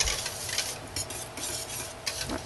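Oatmeal being stirred into a honey oatmeal bar soap mixture, a close, continuous scraping and swishing with soft periodic taps of the utensil against the container, no talking.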